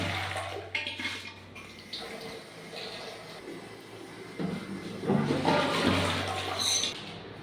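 A toilet flush tank flushing in a newly fitted Western-style bathroom, giving a steady rush of water that swells louder toward the end.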